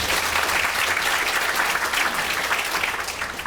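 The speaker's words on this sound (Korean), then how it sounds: "룰을 지키는 우리 패널들을 위해서 박수 한 번 부탁드립니다." An audience at a public deliberation debate forum in Changwon applauds the panel with a dense, steady round of clapping that stays even throughout and eases slightly at the end.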